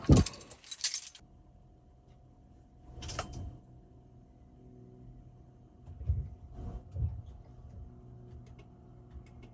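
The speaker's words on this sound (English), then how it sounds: "I'm going to go chuck the keys in the ignition of the van" Keys put into a van's ignition: a bright jangle of keys up front, then a few softer metallic clicks and rattles with quiet gaps between them.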